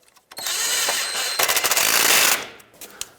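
Bolt being tightened on a front wheel bearing bracket of a 2003-2009 Toyota 4Runner, a steady close mechanical whirr of an impact or ratchet tool running for about two seconds, then trailing off.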